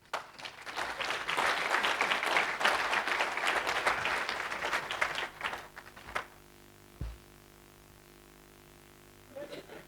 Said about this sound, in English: let us give a round of applause to our next speaker, Dr. Elias Melly